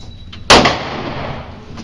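A single loud gunshot at an indoor shooting range, a sharp close crack followed by a long reverberant decay in the enclosed space, with faint background noise around it.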